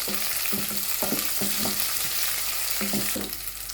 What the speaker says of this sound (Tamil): சின்ன வெங்காயத்தை சேர்த்து நல்லா பொன்னிறமாக வரும் வரைக்கும் வதக்குவோம்